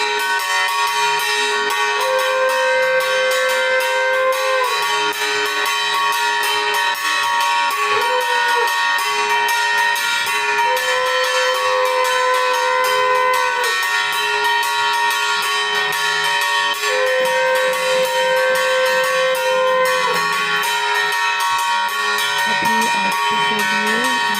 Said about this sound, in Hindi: वो सब बजा रहे हैं शंख।